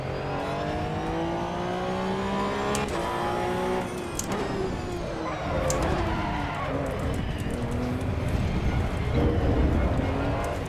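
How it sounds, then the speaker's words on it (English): Tires squeal under a revving flat-six engine as a car corners hard in Assetto Corsa Evo, with pitch rising and dropping through gear shifts and loud, sustained screeching scrubbing through the second half. "Not sure if tire squeal is brake lock or just from cornering."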